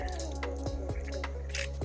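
A small perch slipped back into a mountain trout stream, with a few quick wet drips and light splashes close by against a constant low rushing background.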